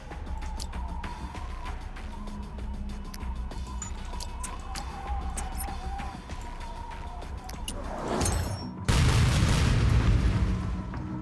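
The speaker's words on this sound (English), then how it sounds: "More rockets. We've got the rockets." Rockets go off in the strategy game Reverse Collapse: Code Name Bakery: a rushing whoosh swells and ends in a loud, sharp blast near the end, over a steady, crackling game soundtrack.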